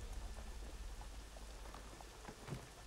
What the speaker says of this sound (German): Charles mag keinen Regen